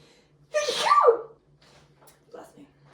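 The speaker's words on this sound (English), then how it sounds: "Good sneeze." A single loud, close sneeze bursts out, followed by brief quiet breathy sounds.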